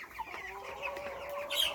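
Broiler chickens bred for butchering at eight weeks, clucking and murmuring together inside a farm barn, a steady close chorus of soft calls with a few sharper squawks rising near the end.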